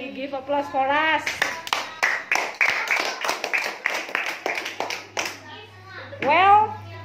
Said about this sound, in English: Applause for us.